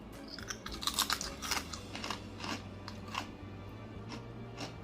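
Baked crunchy jackfruit chips are chewed up close. Loud crisp crunches come in a quick cluster, then softer chewing fades out, with no talking.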